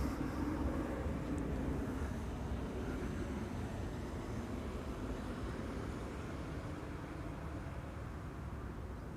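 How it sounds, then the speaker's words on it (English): An Air Canada Boeing 787 Dreamliner bound for Toronto departs Schiphol runway 24, a steady broadband engine roar holding at moderate distance and easing slightly over time, with no voices. "Next up will be an Air Canada Dreamliner to Toronto."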